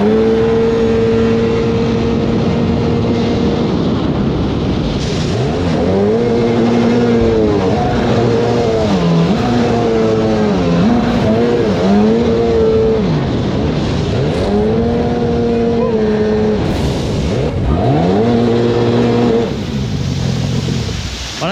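A 1995–96 Sea-Doo XP personal watercraft engine runs loud and close, its pitch rising and falling in repeated revving sweeps as the throttle opens and eases off over water.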